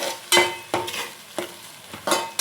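A ground onion and tomato paste is stirred in a pan of hot oil for fish curry, with four distinct scraping strokes of the spoon over a soft bubbling sizzle.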